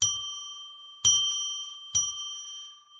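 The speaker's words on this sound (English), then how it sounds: "let's ring a bell 3 times to declare sacred space" A bell for a psychic tarot radio show rings three times, about a second apart, each strike a bright metallic ding that sustains and slowly decays, heard clearly with no talking.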